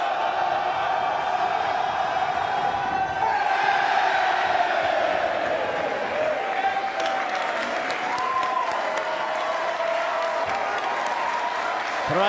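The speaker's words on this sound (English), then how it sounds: "Crowd firmly behind the Bollywood Boys here." A large wrestling crowd at a WSW tag team championship event, chanting and cheering for the Bollywood Boyz in a sustained, rhythmic roar with rising and falling shouts.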